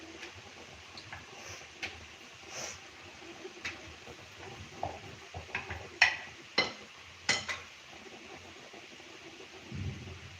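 Samosas frying in hot oil over a low flame give a soft, steady sizzle with scattered pops and light clicks, close and fairly quiet, with no talk.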